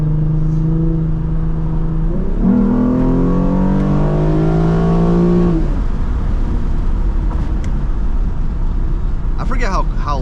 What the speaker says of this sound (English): I forget how loud my car is.